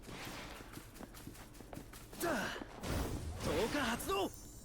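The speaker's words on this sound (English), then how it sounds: "Still hear his footsteps though." Enemy player's footsteps in an online multiplayer video game match featuring the character Mirio: a run of soft, quick, evenly spaced steps near the start, then a voice talking over game sounds.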